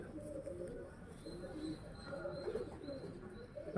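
Girebaaz pigeons cooing softly amid a busy background of low murmurs and bird chatter, a steady continuous texture with faint overlapping calls throughout.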